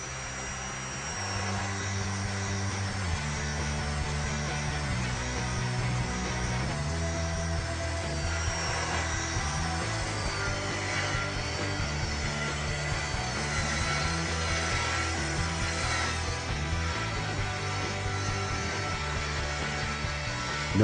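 A Festool TS 55 EQ plunge circular saw cuts through wood with a loud, sustained whine, close and continuous for the whole cut, with no talking.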